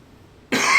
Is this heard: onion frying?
no